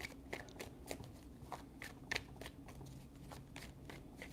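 Tarot cards are shuffled in a quiet room, a series of soft, rapid riffling and tapping bursts repeating at a steady pace, faint and close.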